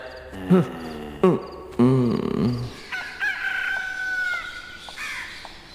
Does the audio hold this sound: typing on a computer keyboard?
no